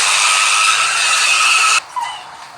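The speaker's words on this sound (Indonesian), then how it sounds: "Asik, itu suara remnya keren banget cuy." Brakes from a car in a GTA-style Android game set in Indonesia give a loud, steady hiss that lasts nearly two seconds, then cut off abruptly into a quieter engine tail.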